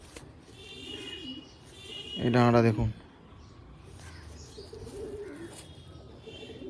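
A pet pigeon being shown for sale lets out one brief, loud coo midway, while someone talks nearby before and after it.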